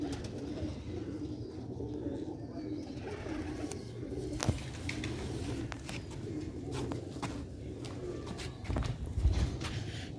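Red-pearl pigeons coo softly in low, repeated murmurs, with scattered wing flutters and clicks nearby and occasional faint scuffing in the background.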